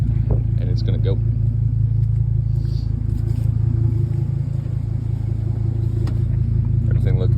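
A 2004 Chevy Colorado 3.5 truck driving after a rod bearing repair, its engine a steady loud low rumble throughout, recorded close from inside, with brief speech at the start.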